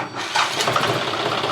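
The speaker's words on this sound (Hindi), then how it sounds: "तो अब हम ट्रैक्टर को स्टार्ट करेंगे।" A John Deere 5310 tractor engine, just repaired, cranks and catches, quickly settling into a continuous, rumbling run close by.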